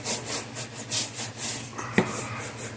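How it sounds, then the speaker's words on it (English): Bottom of a plastic glue bottle rubbed firmly over a stuck-down strip, making repeated rhythmic scraping strokes, close and moderately loud, with one sharp tap near the end. "I burnish it down with the bottom of my glue bottle."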